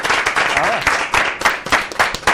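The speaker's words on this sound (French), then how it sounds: "Applaudissez pour vous-même" A studio audience applauding itself on a TV magazine show, with dense, loud clapping filling the room in a continuous burst.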